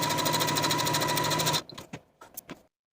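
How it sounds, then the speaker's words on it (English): Sewing machine running steadily while stitching a row of basting stitches on a tee shirt sleeve, a close, fast regular whirring hum for about a second and a half, then stopping with a few light clicks and handling taps. "Now I'm going to take my sleeve piece to the sewing machine and use basting stitches to sew from notch to notch"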